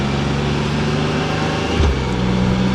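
A Can-Am Spyder three-wheeled motorcycle runs close by at night with a steady, loud engine drone and a slight pitch shift partway through as it revs.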